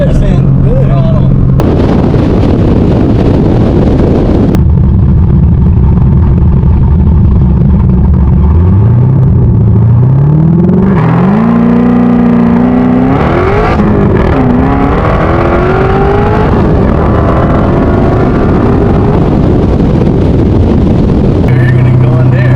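A 1200HP 427 LSX with a big race cam revs hard in a Kong 2650, its loud, lumpy idle climbing into rising, sweeping pulls and settling back, with voices talking over it.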